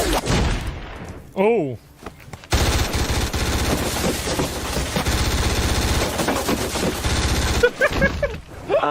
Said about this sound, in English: This weapon is called a P90. Carter, that target. What, 60, 70 yards down? Fire away, son.